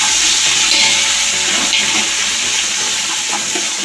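Chicken dum biryani masala with coriander and mint being stirred and fried in a pot, a steady, loud sizzling hiss with scraping stir sounds throughout and no talking.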